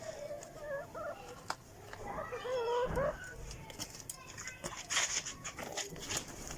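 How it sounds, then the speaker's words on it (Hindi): Backyard hens kept at home clucking and calling in short bursts, with a rooster-like crow and other bird calls nearby, while a person talks now and then amid outdoor background noise. "ये देखें जी हमारी मुर्गियां बड़ी बड़ी हो गई हैं"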